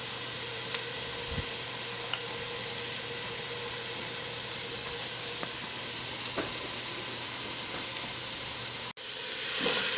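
Chopped onion fries in a pan for a coconut curry with macaroni and corn, giving a steady close sizzle with a few faint clicks of stirring and a brief cut before the hiss resumes.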